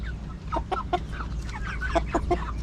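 A backyard chicken clucks in short, repeated bursts close by, with several quick calls clustered together over a steady low background hum.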